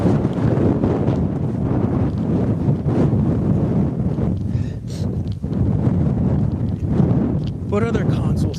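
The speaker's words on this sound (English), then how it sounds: "It's windy." Strong outdoor wind buffets the microphone in a constant roaring rumble that lasts throughout, with a person talking over it.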